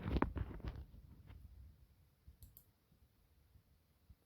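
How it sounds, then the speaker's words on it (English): A computer mouse clicks several times up close while video is edited, a short cluster of sharp clicks at the start followed by sparse faint taps in a quiet room. "click on Edit."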